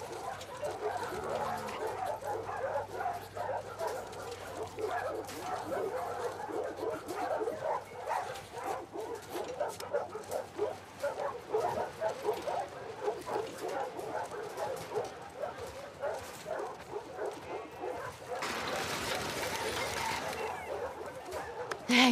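A dog in The Last of Us Part II whimpers, yips and barks excitedly in quick, fluttering bursts throughout, close and fairly loud, with game voices talking alongside it.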